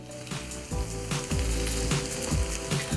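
Sichuan peppercorn-crusted steak searing in hot oil: a loud, close, steady sizzle with repeated rhythmic crackling pulses, and no talking.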